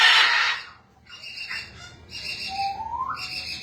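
A talking parrot lets out a harsh, loud burst of screaming, followed by several shorter squawks and a rising whistle-like call, close by with no talk.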